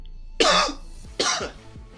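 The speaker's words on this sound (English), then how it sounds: "I am sorry, I'm coughing all over the place" Two loud, harsh coughs close to the microphone, the second following about a second after the first, with a quiet low hum underneath.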